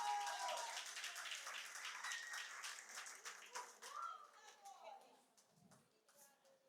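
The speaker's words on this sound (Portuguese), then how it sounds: "Aplaude ao Senhor, querido." Congregation clapping and applauding during a Sunday church service, a dense burst of hands with some voices mixed in, tapering off and growing quieter over the last seconds.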